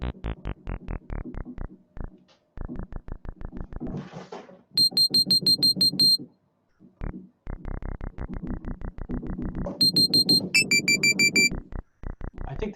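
MIDI notes played back in Ableton Live, a run of short evenly spaced synthetic tones in quick rhythmic bursts, growing louder as the pitch climbs, with brief pauses between phrases.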